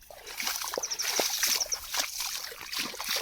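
Irrigation water flows along a channel into a wheat field, with close, steady trickling and light splashing and sloshing that carry on throughout without a break.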